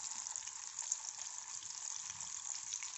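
Oats cheese fingers frying in hot oil make a steady, dense, faint sizzle and crackle throughout, with no talk over it.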